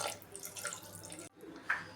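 Water splashes and runs steadily into a cooking pot of chicken fry, with a brief pause and then a louder pour, close by and without talk.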